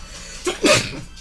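A single short sneeze lands close by during a tabletop role-playing game session, a quick sharp intake followed by a burst.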